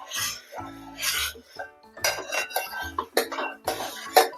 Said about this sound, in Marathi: हे सगळं व्यवस्थित ढवळून घ्यायचं